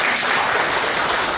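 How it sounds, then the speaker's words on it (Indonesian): A dense, loud burst of audience clapping at a Ramadan interfaith dialogue event, continuous and even for a short stretch, with no talking over it. "beri tepuk tangan untuk narasumber"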